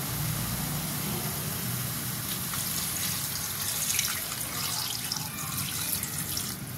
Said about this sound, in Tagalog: Lagyan na natin yung ating sabaw. Maglagay na tayo ng sabaw guys.